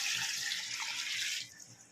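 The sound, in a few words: water poured into pot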